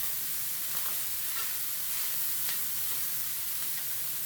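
Masala spices fry in a pan for a Pakistani bhindi qeema dish, giving a steady, dense sizzle throughout with faint stirring scrapes, close and continuous with no talk.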